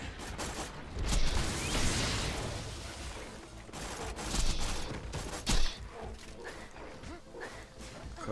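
Gunfire in the video game Borderlands 2, with bursts of shots and impacts mixed into a dense, loud game soundscape of effects and music, and a voice talking at times.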